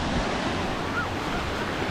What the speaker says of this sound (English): Once the wave breaks, I'm going to walk in.